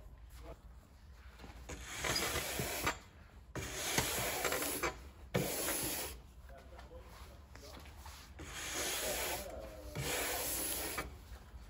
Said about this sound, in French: Prenez pour commencer la brosse bronze que vous allez passer à 2 reprises.